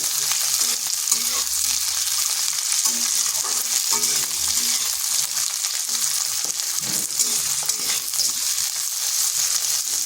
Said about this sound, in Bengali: মটরশুঁটিটা খুব বেশি ভাজার দরকার নেই, হালকা একটু ভেজে নিচ্ছি।